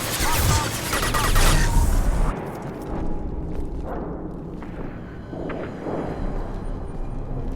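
Krogan gunfire in the video game Mass Effect 2: a dense burst of loud, booming shots with explosive blasts that gives way to lingering rumble and scattered reports, with game voices over the combat.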